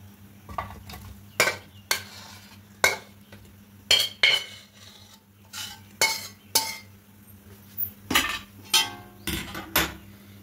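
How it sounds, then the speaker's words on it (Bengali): Cooked red amaranth greens are scraped out of a cooking pot into another vessel with a metal spoon, giving a series of sharp clinks and scrapes at irregular intervals against a low hum. "এবার এটা নামিয়ে অন্য একটা পাত্রের মধ্যে ঢেলে নেব।"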